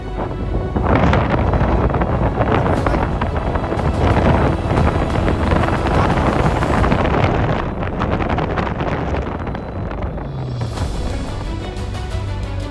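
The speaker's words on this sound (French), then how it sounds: "Je vous dis qu'il y a du vent." Loud wind buffets the microphone on a bicycle path in Taiwan with constant roaring rumble and gusty surges, easing slightly toward the end.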